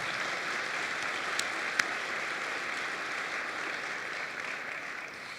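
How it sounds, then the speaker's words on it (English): Audience applause at the CU Denver State of the Campus 2018 gathering, sustained even clapping from a large crowd heard from some distance, moderately soft, with a couple of sharper individual claps. "That's worth a round of applause."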